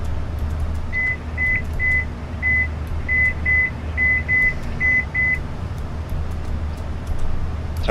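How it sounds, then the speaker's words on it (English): An electronic device beeps in a series of about ten short, evenly pitched tones at a brisk irregular rhythm over a low steady hum, then stops, leaving only the background drone. "Sorry about the beeping."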